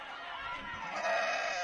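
Sheep bleat in a single short, noisy, wavering cry that holds steady throughout.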